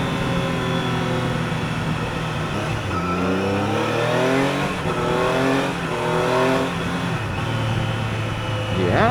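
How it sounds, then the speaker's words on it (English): A 2024 Triumph Daytona 660 motorcycle engine revs up and down in repeated rising and falling sweeps, loud and close, sustained across the whole stretch. "The engine sounds really nice."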